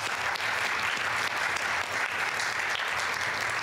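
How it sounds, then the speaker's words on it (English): Steady round of applause from an audience at a school board meeting honoring graduating students, continuous even clapping throughout with no talk over it. "So please join me in a round of applause for them."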